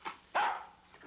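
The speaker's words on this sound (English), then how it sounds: "Here, doggy, doggy. Nice doggy." A dog gives two sharp barks in quick succession, the second louder and longer, heard near and alone in an old comedy short.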